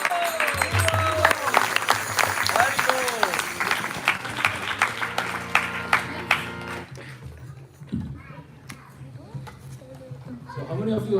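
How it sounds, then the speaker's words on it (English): Audience clapping at a devotional lecture to thank the sound and mic team, a burst of dense applause with scattered claps and voices mixed in, thinning out after several seconds to isolated claps and murmur. "So big round of applause for all the sound team, the mic team"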